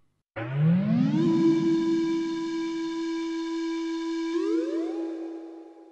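A single loud note on a Korg M1 synthesizer enters quickly with a bright swell, holds a steady sustained tone, then steps up in pitch near the end, with nothing else around it.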